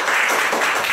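Students in a classroom clap together in a brief, loud burst of quick overlapping hand claps, close by and without talk.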